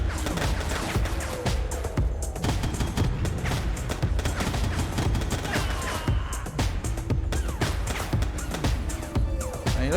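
Dense, continuous gunfire from the video game Foreclosed, rapid overlapping shots and booms filling the whole stretch at a loud, steady level with no talk.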